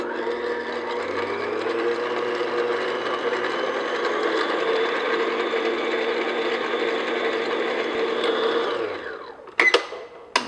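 An electric mixer beats vanilla extract and other ingredients for a classic zucchini bread batter, a steady close whirring drone lasting about nine seconds before winding down, followed by a couple of sharp clinks.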